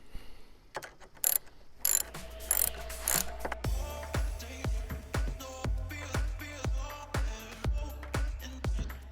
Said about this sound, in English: for the hardware here, we'll be using the 9/16 wrench